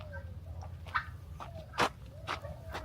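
Soft, intermittent whines from a pet dog in a backyard, a few brief high whimpers spaced over a few seconds, close by over low background noise.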